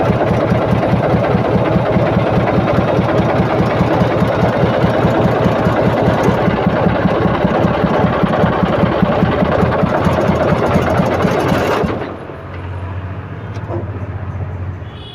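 A tractor engine idles at low rpm with a steady, close, throbbing rumble, then abruptly sags and drops to a quieter, rougher hum near the end as the engine bogs down.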